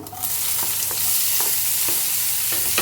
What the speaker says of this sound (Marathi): आता घालून घ्यायचं आहे कांदा बारीक चिरलेला